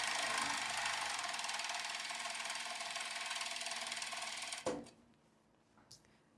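An overlock machine sews and trims a long casual skirt seam toward the slit with a fast, steady mechanical whir that stops abruptly, followed by a click and faint handling sounds.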